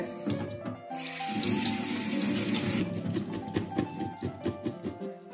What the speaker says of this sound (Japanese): ミニトマトすべて取り終わったら、まあ一応簡単に洗っていきます。